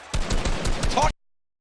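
Rapid hand cannon fire in the video game Fortnite rattles off as a dense burst of loud, close gunshots for about a second, then stops abruptly into silence.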